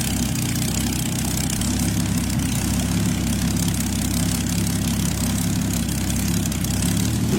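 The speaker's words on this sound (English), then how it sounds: "Beneath its massive hood lies a 27-liter Rolls-Royce Meteor V12, a World War II tank engine derived from the legendary Merlin aircraft engine." The 27-liter Rolls-Royce Meteor V12 in a Rolls-Royce Thunderbolt, a World War II tank engine derived from the Merlin aircraft engine, idles with a deep, steady, heavy rumble, loud and continuous throughout.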